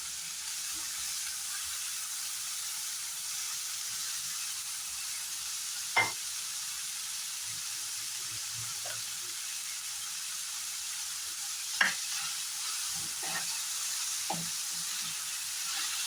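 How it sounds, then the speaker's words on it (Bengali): Chopped garlic frying in a pan for chicken fried rice, a soft, steady sizzle throughout with a few sharp clicks and scrapes of stirring. "এখন ভালো করে কিছু সময় ফ্রাই করে নেব, একটু কালার আসা পর্যন্ত ফ্রাই করে নেব।"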